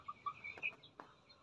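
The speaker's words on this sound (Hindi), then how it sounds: "मुर्गी के बच्चे हैं, चूजे हैं छोटे छोटे" Young chicks about one and a half months old on a poultry farm, giving a few faint high peeps and soft clucks in quick succession, with no talking.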